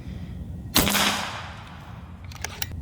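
A Macavity Arms MA3 PCP air rifle shoots an FX pellet with one loud, sharp report that rings out and fades over about a second. A few faint metallic clicks come shortly after.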